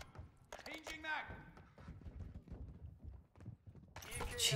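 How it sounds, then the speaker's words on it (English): Players' footsteps in Modern Warfare 2 multiplayer patter in quick, uneven bursts of light thuds, with a voice talking over them and other game noises rising near the end. "I can just hear everyone running around below me"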